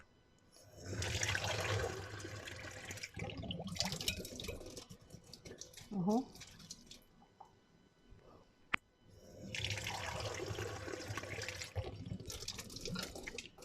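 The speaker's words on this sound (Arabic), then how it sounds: "هجيب كوبايتين الميه" Two cups of water are poured into a pot in a home kitchen, in two rushing, splashing pours close by with a quiet gap between them and a brief spoken word.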